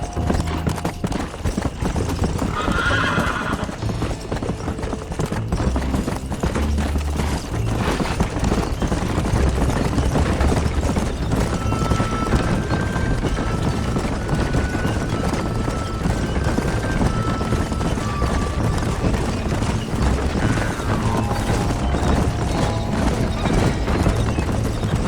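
Horse hooves clip-clop steadily through a Red Dead Redemption game scene, with occasional neighing and whinnying over continuous music and ambient game sound.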